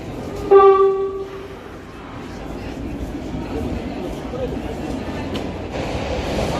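A new Keihan Railway train arrives at a station, sounding one short, loud horn blast near the start, followed by a steady rumble of the approaching cars.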